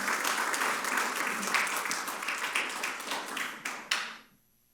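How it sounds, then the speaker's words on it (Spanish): Spanish-speaking church congregation giving a round of applause, dense steady clapping with a few sharper claps near the end before it quickly dies away to silence. "Dale un aplauso a Dios, por favor."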